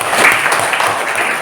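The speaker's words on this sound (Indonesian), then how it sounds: "Ya, tepuk tangan dong." A short burst of classroom applause, many hands clapping in a dense, steady patter that stays loud throughout.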